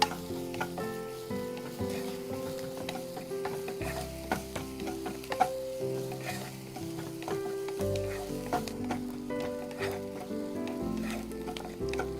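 Onions frying in a pan while being stirred, a steady sizzle with occasional scrapes under tonal background music, no talking.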